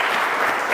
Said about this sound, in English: How about one more round of applause for everybody?